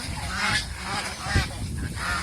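Geese honking together on a goose farm, loud, overlapping calls rising and falling across a busy flock, with one stronger honk near the middle and no talk.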